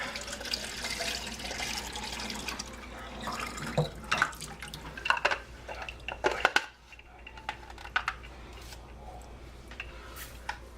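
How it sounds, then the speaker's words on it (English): A kitchen tap runs steadily into a sink, with water splashing and a few clinks of dishes over a low hum, close by and moderately loud, no talk. "I'm just gonna grab myself some water here real quick"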